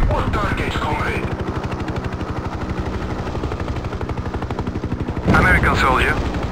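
Rapid, steady 30mm cannon fire from a Hind attack helicopter in a 1998 Korea campaign flight game, with the rotor droning beneath it. Voices talk briefly at the start and again at the end.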